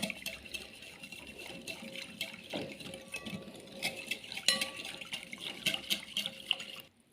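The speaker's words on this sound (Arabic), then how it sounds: "هننزل بقى بكوبايتين ميه من الحنفيه" Tap water runs and splashes into a kitchen vessel while making strawberry jelly pudding, a steady close splashing stream with some clinks and stirring, no talk.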